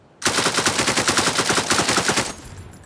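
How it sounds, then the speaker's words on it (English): Rapid automatic gunfire from a gun in the video game Beyond sandbox, a loud sustained burst of evenly spaced shots lasting about two seconds that ends abruptly as the magazine empties. "I cock it. Shoot."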